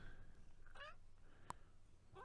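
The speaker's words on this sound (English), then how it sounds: "Meow." A cat meows in the old adventure game The Colonel's Bequest: two short, fairly quiet meows separated by a sharp click, over a low steady background hum.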